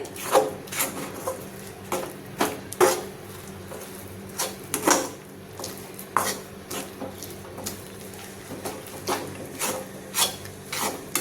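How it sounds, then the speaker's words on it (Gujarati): Spoon stirring and scraping a sticky peanut sweet mixture with cardamom powder in a metal kadhai, giving repeated clanks and scrapes in an uneven rhythm, close and fairly loud, with no talking. "એલચીનો પાવડર લઈ અને બરાબર મિક્સ કરી લઈશું આવી રીતે બરાબર હલાવી લેવાનું છે"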